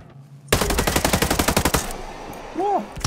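A hostile drone opens fire in Ghost Recon Breakpoint, a sudden loud burst of rapid automatic gunfire lasting about a second and a half before it drops to quieter game ambience with a brief tonal sound at the end.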